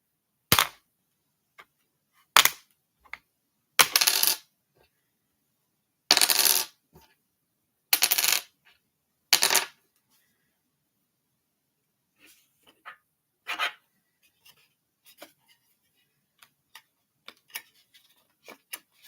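A four-sided plastic die is dropped and rolled on a hard surface, giving a series of sharp clattering bursts spread over several seconds, some loud and close, others short faint taps, with silence between.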